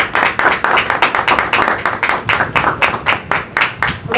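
A church congregation claps together loudly and rhythmically at a Urdu sermon, a dense, steady applause with regular pulsing beats filling the room.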